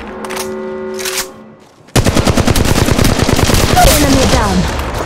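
Automatic gunfire in the mobile battle royale game Apex Legends Mobile, a loud rapid burst of shots after a brief lull, preceded by tonal game sounds.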